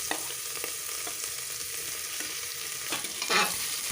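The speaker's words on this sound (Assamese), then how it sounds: "লং ইলাইচি কেইটা অলপ ভাজাৰ পিছত মই ইয়াত পিয়াজখিনি দি দিছো" Onions frying with cloves and cardamom in a pressure cooker pot for pulao, a steady close sizzle throughout, with a few stirring scrapes and clinks rising near the end.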